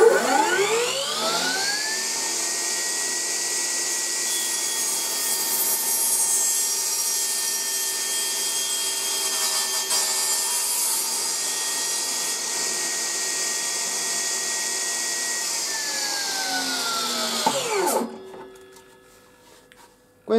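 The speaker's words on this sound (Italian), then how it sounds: "Questo è il taglio sul pezzo di legno." A HIKOKI C3610 DRJ table saw spins up with a rising whine, cuts steadily through a piece of wood for about fifteen seconds, then winds down and stops, loud and close, with no talk.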